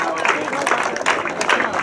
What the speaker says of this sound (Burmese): လက်ခုပ်တီးပြီးတော့ကြိုးစားကြရအောင်